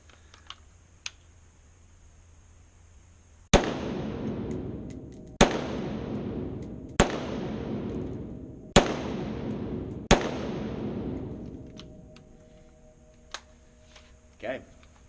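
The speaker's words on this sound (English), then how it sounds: "bring the gun up, safety off, and shoot all 5 rounds all at once" Five sharp rifle shots fired in quick succession during a dot torture drill, each loud crack trailing off in a ringing decay before the next, evenly spaced about one and a half seconds apart.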